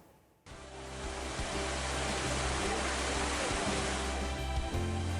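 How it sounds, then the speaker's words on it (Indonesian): Strong, steady rush of water from Grojogan Sewu, an 81-metre waterfall in Karanganyar, Central Java, starting abruptly and holding as a dense, continuous roar. "Terkenal dengan aliran air yang deras, air terjun Grojogan Sewu juga memiliki ketinggian yang membuat pengunjung terkesima."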